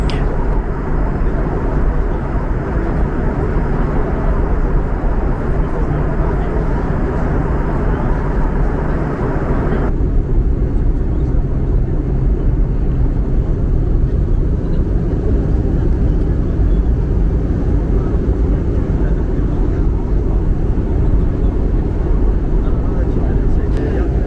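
Steady, loud cabin roar of a Lufthansa Airbus A340 in flight, banking in a right turn on approach, a broad continuous engine and airflow rumble that drops slightly in brightness partway through.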